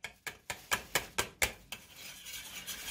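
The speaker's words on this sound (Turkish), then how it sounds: "Aynı zamanda da karıştırma işlemine devam ediyoruz." A spoon stirs a mixture of water and wheat starch in a pot, making a string of brisk, evenly spaced scraping strokes near the listener, then easing into a softer, continuous swirl.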